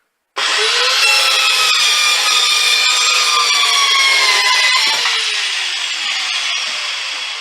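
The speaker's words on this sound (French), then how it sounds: "c'est vraiment une bonne petite scie circulaire" Tacklife mini circular saw cutting wood: a loud, steady, high whine that starts abruptly, holds for about seven seconds and eases slightly near the end of the cut, with no talking.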